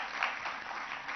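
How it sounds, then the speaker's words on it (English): An audience at an auditorium lecture applauds in honor of immigrants, a brief, dense wash of clapping heard on its own. "they deserve a big round of applause before we begin"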